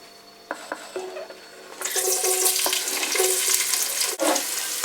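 Onion added to hot olive oil in a pan, starting with a few light clinks and then breaking into a loud, steady sizzle that carries on to the end.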